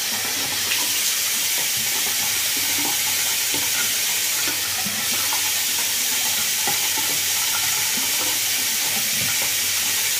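Hot tap water runs steadily in a sink for a face rinse during a morning wash, a continuous close hiss with light splashing throughout and no speech.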